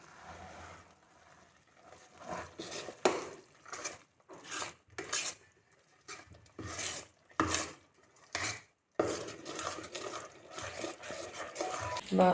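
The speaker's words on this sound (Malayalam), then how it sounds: "ഇനി നമുക്കിതിനൊന്ന് ചെറുതായിട്ടൊന്ന് ഇളക്കി കൊടുക്കാം" A spoon scrapes and stirs risen kunjanappam batter in a bowl, several short bursts of rubbing and clinking separated by pauses, close and fairly quiet.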